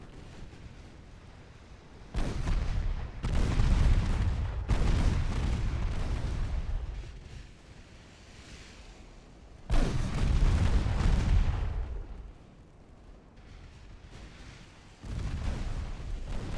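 Secondary naval guns firing at transports in a naval warfare video game, several loud booming salvos in separate bursts, each rolling out into a long rumble.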